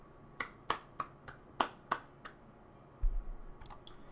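Classmates in a Katawa Shoujo classroom clap their hands in a quick string of about seven crisp, light, evenly spaced claps, followed by a soft dull thump and a few faint clicks.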